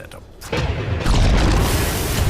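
A bomb goes off in Dota 2 during a VP vs OG pro match, a heavy low boom that swells and rumbles on for about two seconds, loud and close.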